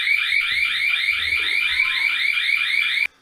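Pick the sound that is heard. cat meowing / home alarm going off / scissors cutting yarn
home alarm going off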